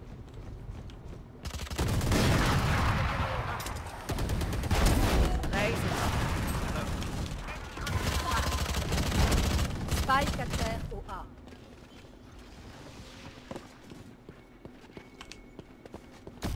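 Gunshots in Valorant come in a cluster of sharp bursts, loud and close over a few seconds, then fade to a quieter stretch of game ambience.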